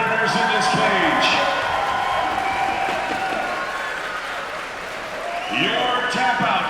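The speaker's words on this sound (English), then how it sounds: "Big round of applause, ladies and gentlemen, for both of the competitors in this cage." A fight crowd at a cage-fighting championship event applauds and cheers loudly for both competitors, sustained clapping mixed with crowd noise while an announcer's voice carries over the top throughout.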